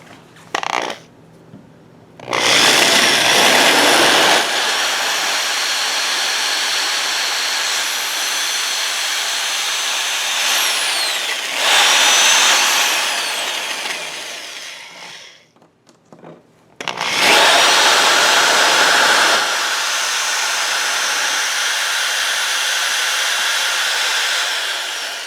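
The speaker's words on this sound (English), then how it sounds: "I'm going to be using a drill. I'm going to be making a series of holes" A power drill boring a series of holes in wood in a closet door, with loud, sustained whirring bursts of several seconds each, separated by short quiet gaps.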